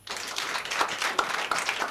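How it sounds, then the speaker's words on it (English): An audience claps for a man at a live programme, a short burst of scattered applause close by, with no one speaking. "Let una clap for him."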